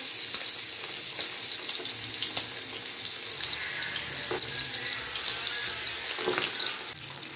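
Steady hissing sizzle of pompano fish frying in hot oil, continuous and close, with a few soft clinks partway through and no talking.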